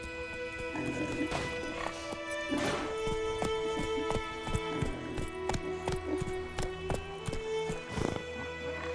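Roach, the horse in The Witcher 3, gallops with a steady rhythmic clip-clop of hooves, close and clear, with neighs and a continuous tonal music or ambience bed underneath.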